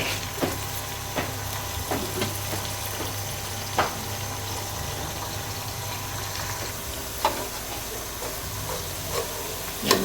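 A large, finely chopped onion frying in hot oil in a pan gives a steady, moderate sizzle and hiss, with occasional soft clinks and stirring knocks.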